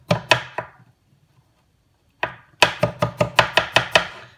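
A knife chops onion finely on a board: three quick close thunks, a pause, then a fast regular run of about nine crisp chops.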